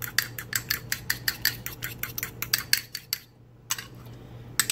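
Lemon chaffle batter sweetened with Splenda being whisked in a bowl: a quick series of sharp, rhythmic clinks of utensil against dish, close and clear, with a short pause before the tapping resumes.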